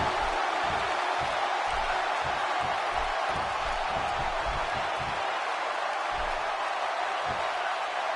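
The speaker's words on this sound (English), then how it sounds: "The crowd on hand tonight, clearly fired up for this match here on Superstars" A steady, dense roar of a cheering arena crowd in a WWE wrestling video game, loud and continuous throughout with faint thuds underneath.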